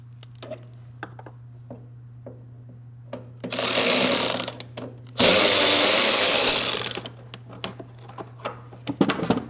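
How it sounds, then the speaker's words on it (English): A Torx 20 bolt is removed from the ignition module cover on a Mercedes Sprinter with a power driver, two loud whirring bursts of a few seconds each between scattered clicks and taps over a steady low hum. "Carefully taking the bolt out."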